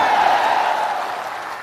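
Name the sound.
audience applause at a political rally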